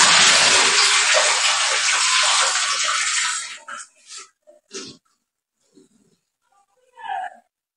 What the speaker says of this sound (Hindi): अच्छे से इनका पानी निकाल देना